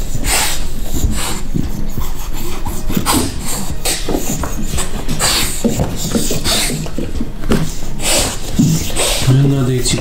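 A pregnant dog digs a nest with loud, continuous scraping and scratching of paws, close by, with panting and a person talking over it.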